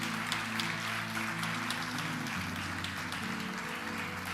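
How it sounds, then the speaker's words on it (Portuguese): A church congregation applauds in praise during a family gathering service, a soft continuous patter of many hands under sustained organ or keyboard chords, fairly distant and low in level. "Podemos aplaudir o Senhor Jesus."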